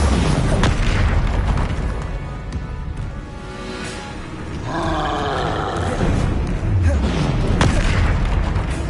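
A Bombarda explosion spell in Hogwarts Legacy bursts with heavy booming roars and rumbling debris, loud and dense throughout, with layered creature-like growls and a rising whoosh in the middle.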